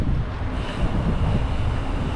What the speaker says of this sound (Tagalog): Medyo mahangin na naman